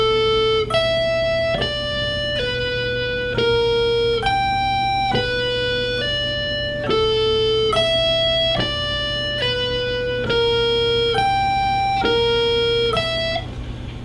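A clean electric rock guitar plays an angular hybrid-picking lick, a repeating pattern of short plucked notes jumping between low and high strings in a steady looped rhythm, played slowly over a steady hum, with no talking.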